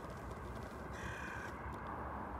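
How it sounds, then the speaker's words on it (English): A crow caws on the Mount of Olives overlooking Jerusalem, its harsh calls standing out faintly and a little distant above steady outdoor wind and background noise. "Hey, you don't like that, Mr. Crow?"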